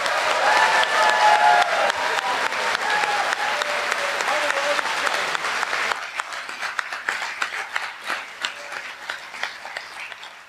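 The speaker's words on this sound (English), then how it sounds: "Can we have a huge round of applause for Microsoft?" A crowd at a festival closing ceremony gives sponsors a big round of applause, loud continuous clapping that carries over music at first, then continues more sparsely with distinct individual claps.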